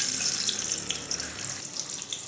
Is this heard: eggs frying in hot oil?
yes